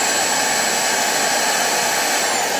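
A Dibea D008 cordless vacuum motor on max mode gives a loud, continuous high-pitched whine and rush of air, close and steady, with no other sound.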